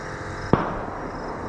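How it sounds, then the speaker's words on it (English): A single sharp report from a gunshot in a forest cracks once, muffled and distant, cutting through a steady outdoor background hiss before it quickly dies away. "We literally just heard gunshots."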